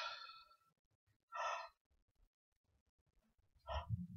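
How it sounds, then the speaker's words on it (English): A person yawns and sighs audibly during a tapping session, with long breathy exhalations heard up close, separated by quiet pauses and faint low rumbling. "the yawning."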